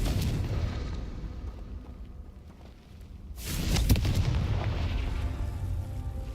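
A fiery spell explosion in Hogwarts Legacy bursts out with a deep rumbling boom midway, preceded by a duller blast and followed by a sustained roaring wash of crackling debris.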